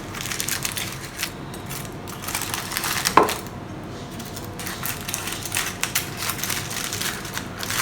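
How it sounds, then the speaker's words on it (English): A knife cuts off the ends of oven-baked sambal stingray, a close, crunchy crushing and crackling texture with irregular taps and one sharp clack midway. "Cut off the ends."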